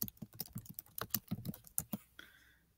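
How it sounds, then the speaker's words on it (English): Quick bursts of keystrokes on a computer keyboard as a name is typed, close and clear, a rapid run of taps ending in a brief pause. "So I'm going to type my name."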